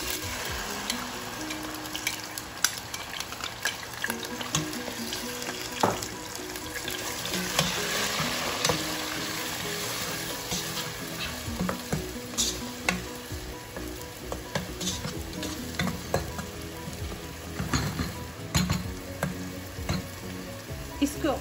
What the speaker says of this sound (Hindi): इसको ऑयल में मैं पकाऊंगी इतना कि ये प्याज का पानी खुश्क हो जाए